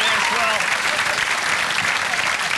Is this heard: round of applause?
yes